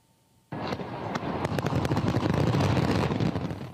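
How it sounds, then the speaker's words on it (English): New Year fireworks over a river in Bangkok, loud crackling bursts and booms starting abruptly after a brief quiet moment and continuing densely. "Thailand rang in 2026 with spectacular fireworks over a river in Bangkok."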